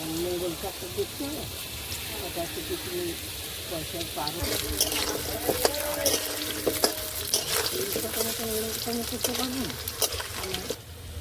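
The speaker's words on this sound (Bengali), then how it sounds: "তেলটা গরম হয়ে গেছে, আলুগুলো ভেজে নেব।" Potato chunks frying in hot mustard oil in a pan, a steady crackling sizzle with scattered sharper pops and occasional stirring clatter, close and moderately loud, with voices talking over it.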